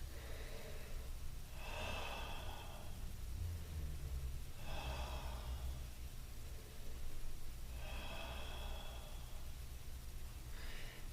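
Slow deep breaths during a seated heel stretch in a soccer mobility workout, four long, airy inhale-exhale cycles spaced evenly, near and fairly quiet over steady background hum.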